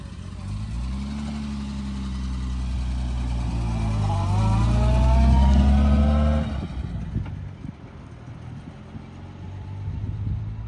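A rare 1962 Jaguar XKE drives past on a test drive, its engine swelling louder as it approaches, peaking near the middle, then dropping away as people talk quietly in the background.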